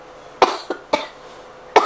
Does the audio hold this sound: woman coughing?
yes